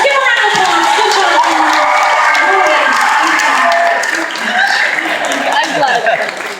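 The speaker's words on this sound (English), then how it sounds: "Give a round of applause." Loud, close audience applause and cheering at a live comedy show, dense clapping mixed with whoops and shouts that swell and then ease slightly, with voices in the crowd.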